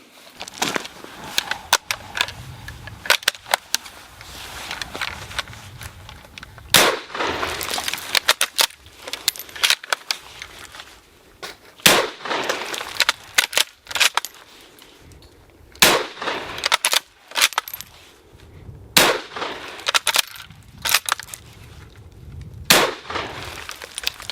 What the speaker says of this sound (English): Let's do some more shooting.